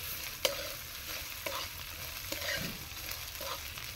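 Chopped ginger and green chili frying in a pan for paneer masala, a soft steady sizzle broken by a few light stirring taps, close but fairly quiet with no talking.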